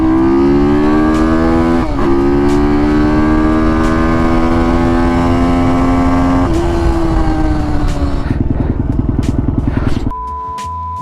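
Ohvale GP-0 190 minimoto blasting off the line in a wheelie, its small engine screaming loud and close with rising revs, a brief shift dip, then a higher pitched drone before the note drops away near the end.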